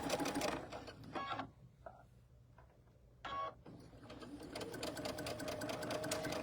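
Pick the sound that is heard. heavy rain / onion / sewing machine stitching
sewing machine stitching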